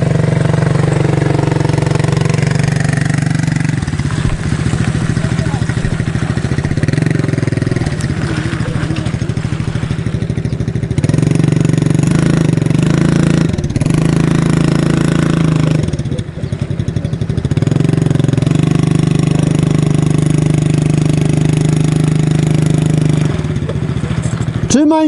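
A KaYo 110 Chinese quad's small engine drones and revs while being ridden, loud and steady with rising and falling throttle swells and clattering, close to the microphone.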